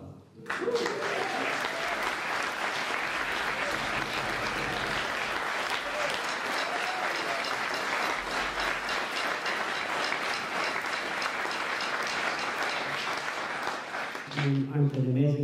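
Theatre audience at a live jazz festival concert in Limerick gives a long, sustained round of applause for an Irish musician, dense steady clapping that fades near the end as voices and music return.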